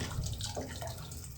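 Water runs steadily from a broken faucet that has come loose and will not seat, a close, even hiss with slight splashing over a short stretch.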